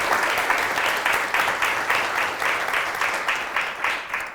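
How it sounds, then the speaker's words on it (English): An audience at a university doctoral showcase keynote claps for a panel, a steady round of applause that holds for several seconds and softens slightly toward the end. "So we have a round of applause and a thank you to our"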